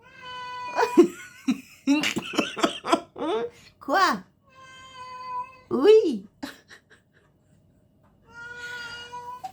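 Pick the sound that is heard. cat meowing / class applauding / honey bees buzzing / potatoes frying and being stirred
cat meowing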